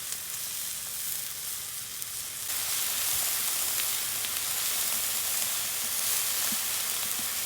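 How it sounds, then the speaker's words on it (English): Beef steaks searing in a pan over a rocket stove, a steady loud sizzle that grows a little brighter partway through and carries on evenly with faint crackles, no talking. "right now I'm searing these steaks"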